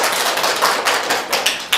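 Students in a classroom applaud during a microteaching lesson with a brief burst of dense, close hand clapping that is fairly loud and free of talk.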